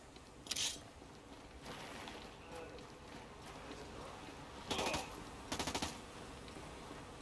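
Bursts of gunfire in the tactical shooter Ghost Recon Breakpoint: a sharp burst near the start, then two louder rapid automatic volleys a few seconds later, over a steady game ambience.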